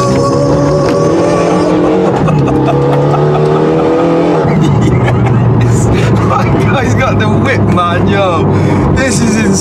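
A stripped-out 300 bhp Renault Megane RS with a sports cat downpipe and middle silencer delete revs and accelerates hard, its loud raspy exhaust rising and falling with pops and crackles, while people talk excitedly over it.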